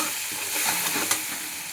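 Green chillies fry in a couple of spoons of hot oil, a continuous close sizzle and crackle with faint stirring, heard alone without talk.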